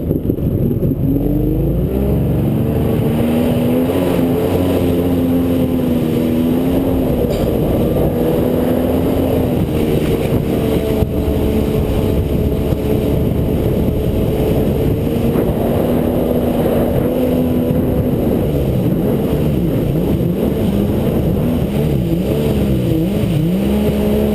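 A 1999 Kawasaki STX 1100 jet ski engine runs rough with symptoms of plugged inline fuel filters, a steady loud idle with wavering, uneven tones throughout and no talking.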